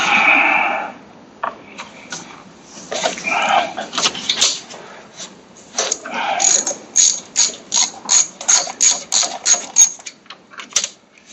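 Tightening the bolts on a carburetor of a Briggs & Stratton Intek 18.5 engine from a Craftsman riding mower, heard as a ratchet wrench clicking close up. The clicks come in uneven bursts, then settle into a fast, steady series of sharp pawl ticks.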